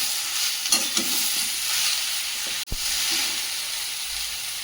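Fried potato, soybean and okra stir-fried together in a pan, giving a constant bright sizzle with occasional scraping strokes and one sharp knock, close and without talk.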